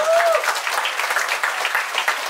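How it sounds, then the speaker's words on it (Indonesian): Audience at a one-day English and character camp in Depok clapping together: a short, dense burst of applause from a crowd, steady and fairly loud throughout. "Tepuk tangan dengan bahasa Inggris"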